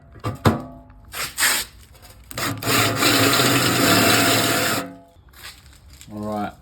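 A step drill bit cuts a hole after a quick pilot hole during a vehicle rig build, giving a sustained grinding, rasping whine for about two seconds, preceded by short bursts and followed by a brief squeal as it finishes.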